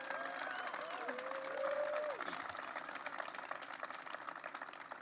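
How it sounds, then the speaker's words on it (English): Crowd applause at an outdoor park announcement for the transformation of a state park in the Bronx, steady and somewhat distant, with voices and a few whistles or cheers mixed in. "Let's give the councilwoman a strong round of applause as well."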